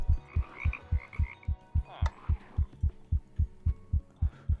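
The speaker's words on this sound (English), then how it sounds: "And you start hearing your heartbeat as well, and that's really unnerving." A steady, rapid heartbeat pulses in the video game RLCraft at low health, about three thumping beats per second with deep low-pitched throbs, while faint game noises and a brief clatter sit over it.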